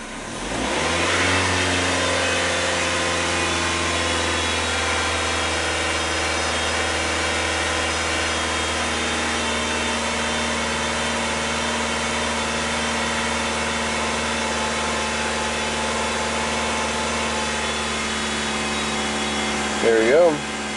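A Dodge Neon engine idles steadily after a cold start with a faulty coolant temperature sensor, a close, even hum holding for about twenty seconds after a brief rise at the start, with a short rustle near the end.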